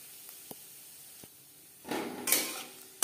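Dry red chillies and whole cumin seeds spluttering in three spoons of hot refined oil in a kitchen pan, a faint crackle rising into a louder sizzling burst near the end, with small utensil clinks earlier and no talk.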